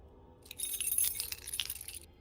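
A bunch of keys grabbed and jangling, a bright metallic rattle lasting about a second and a half, close and fairly clear over a quiet background.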